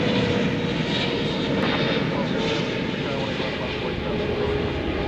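An airliner taking off from DFW Airport gives a steady, broad jet engine roar that holds at a loud level throughout, with a faint radio voice heard over it.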